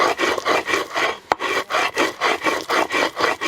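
Stone metate grinding chilies for Oaxacan mole, rock scraping on rock in a steady back-and-forth rhythm of rasping strokes, close and loud, with one sharp knock partway through and no talking.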